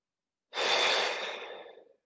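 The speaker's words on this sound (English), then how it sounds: "just a couple of deep breaths in and out." One long, breathy exhale during a mobility exercise class, close and fairly loud, starting abruptly after a short silence and slowly fading away.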